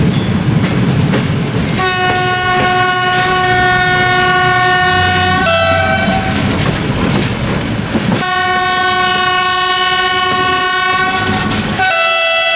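Historic passenger train rolling by on a disused line between Police and Trzebież, sounding a loud, sustained multi-tone horn in two long blasts over steady rumbling wheel noise, close to the track.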